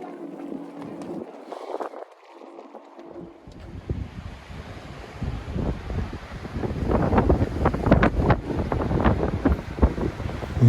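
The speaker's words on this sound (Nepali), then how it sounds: "एकदमै हावाको वेग चढेको छ" Strong gusting wind at Muktinath, Nepal, roaring into the microphone, starting quieter and building to loud, buffeting bursts toward the end with no talk.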